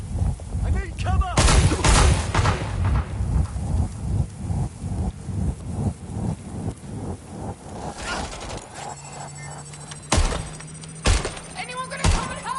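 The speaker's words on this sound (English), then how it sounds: "We've got gunfire!" Gunfire in the video game Watch Dogs Legion: rapid, loud bursts of shots crowd the first several seconds, then thin out into a few heavy, isolated blasts over a steady background hum.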